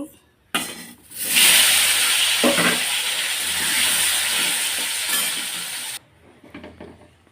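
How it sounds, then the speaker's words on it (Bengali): Potatoes fry in a pan for a vegetarian mixed vegetable dish. A loud, close, steady hiss bursts in abruptly, holds for about five seconds with faint clinks, then cuts off. "আলুটা আগে ভেজে নেব"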